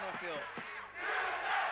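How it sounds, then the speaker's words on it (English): A crowd cheers and chants for Turkish kickboxer Gurkan at a K-3 kickboxing event, a loud rhythmic mass of voices rising in the second half, with a commentator's voice briefly over it. "The crowd screaming Gurkan, a big Turkish community here, backing up their fighter"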